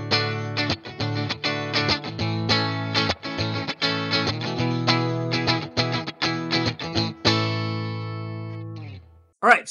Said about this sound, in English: Position 1, just the bridge, very treble, right?